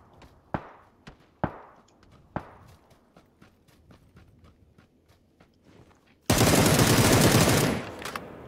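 Gunshots in PUBG on the remastered Erangel map: several sharp cracks spaced irregularly over a quiet background with soft footstep-like ticks, followed by a loud burst of sustained roaring noise near the end.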